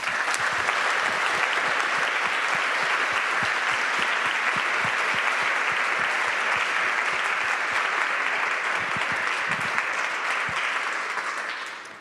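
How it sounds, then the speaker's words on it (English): Sustained applause from a conference audience after a panel discussion on sexual and reproductive health care in emergencies, steady dense clapping filling the room for about twelve seconds before tapering off at the end. "A big applause, please."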